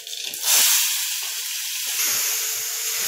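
Ground raw-onion paste sizzles hard as it drops into hot oil with a mustard seed and cumin tempering, a loud burst of steady hiss and crackle that holds on without a pause.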